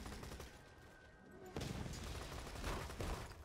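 Gunfire in the video game Borderlands 2, a burst of rapid shots that grows louder midway, heard over low background game noise.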